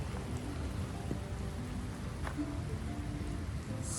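Steady, dense rain falls across a canyon along the Chiricahua natural bridge trail in southeast Arizona, a close, even hiss of drops with no voices over it.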